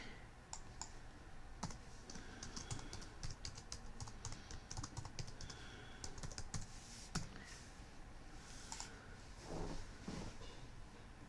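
Rapid keystrokes on a computer keyboard while a password is entered, with irregular bursts of clicks and short pauses, close and fairly quiet, with no talking.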